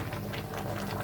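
Matoke bubbling in a covered pot of water, a steady close rolling boil with soft continuous gurgling and no other sounds.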